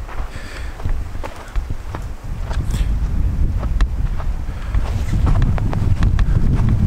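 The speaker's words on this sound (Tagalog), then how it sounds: "Uy, humahangin pa. Lalong lumalamig." Wind gusts buffet the microphone outdoors on a cold winter walk near a ravine in Canada, a loud rumbling roar that builds and stays strong, with scattered crunching steps and knocks.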